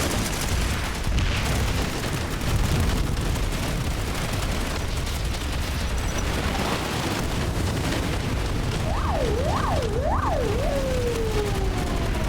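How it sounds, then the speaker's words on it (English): A police siren wails with several rising and falling sweeps near the end, heard in a video game under a dense, loud rumble of game noise that fills the whole stretch. "You can actually have police sirens in that thing."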